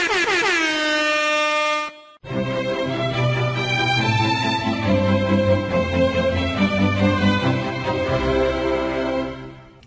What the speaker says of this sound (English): Try the air horns when you need them.